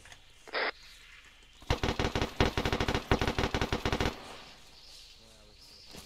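Rapid bursts of gunfire rattle in a fast, fairly regular rhythm for a couple of seconds in the Arma 3 video game, after a brief earlier electronic tone.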